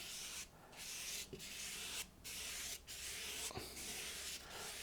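Light bursts of water spray mist across a painting canvas, several soft hissing sprays separated by brief pauses, close and alone without talk.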